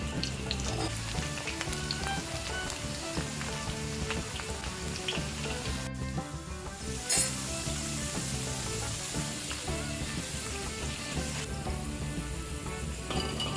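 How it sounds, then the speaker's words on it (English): Potato slices deep frying in hot oil for an Indian-style squid sambal, a dense, steady sizzle and crackle running throughout with a brief dip in the middle. "deep fry the potato"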